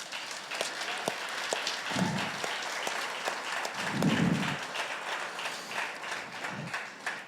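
Steady applause from a church congregation continues throughout, with a few louder swells, heard from a distance.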